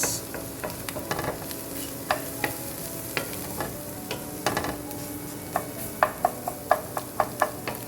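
Eggs fry in a pan, browning as they cook, with a constant low sizzle and a run of sharp spatula scrapes and taps that quicken toward the end.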